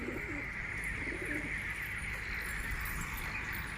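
Kept pigeons coo steadily at a farm, with soft repeated calls heard close over a constant background hum.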